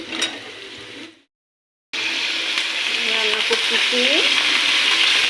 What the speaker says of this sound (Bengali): পেস্টটাকে হালকা বাদামি করে ভেজে নিয়েছি এবং আদা রসুন পেস্ট দিয়ে দিলাম